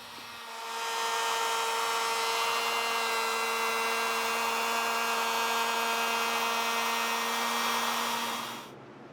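A router cuts a chamfer along the edges of pine boards with a loud, high, steady whine. It spins up, holds even for several seconds and then cuts off abruptly, and there is no talking.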